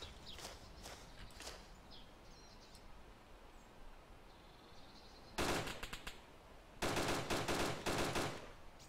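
Video game gunfire in DayZ: quiet ambience with faint distant shots, then two loud bursts of rapid automatic fire, one short and one longer, close and sharp.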